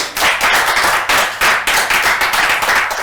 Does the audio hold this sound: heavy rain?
no